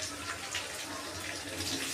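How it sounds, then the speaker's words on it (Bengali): Hot water is poured into a pan of chicken curry with potatoes, giving a soft, continuous liquid pouring and splashing that stays faint but steady for a couple of seconds. "গরম জল দিয়ে দেবো"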